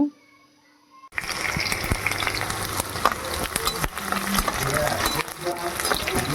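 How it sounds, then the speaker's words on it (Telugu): Chicken fries in a hot pan with a dense, steady sizzle and occasional stirring clatter, starting abruptly after a quiet second and continuing loud and close throughout. "చికెన్ ఫ్రై అవుతుంది"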